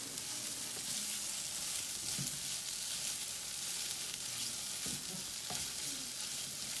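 Shredded cheese melts over scrambled eggs in a hot pan, giving a soft, steady sizzle with occasional faint scrapes of stirring, quiet and close with no talking.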